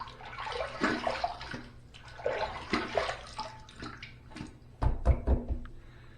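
Tap water running and splashing as a shaving razor is rinsed, a close, steady wash of water in uneven surges with a few louder splashes near the end.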